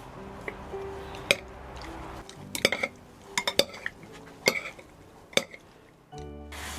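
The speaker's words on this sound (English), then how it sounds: "Then I will mix them all well together." Seasoning ingredients, among them MSG, are mixed in a bowl with a utensil, giving irregular clinks and scrapes of metal against the dish, some sharp taps and soft stirring between them, close up and with no speech.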